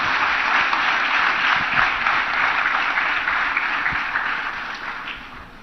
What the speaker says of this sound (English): Now a big applause.